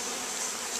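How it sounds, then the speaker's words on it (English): Honey bees buzzing while being shaken from a cage into a hive, a dense, steady, close swarm hum filling the short moment on its own. "Got a lot of bees on you."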